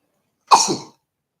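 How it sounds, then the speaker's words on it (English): A single short, sharp sneeze bursts out close by, then silence. "Let me see if I can sneeze."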